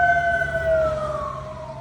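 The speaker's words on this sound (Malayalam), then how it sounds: "അവിടെ ഒരു ആംബുലൻസ് തന്നെ ഉണ്ട്." Ambulance siren wails steadily in traffic, a clear falling tone over low engine rumble, fairly loud and near for a brief moment.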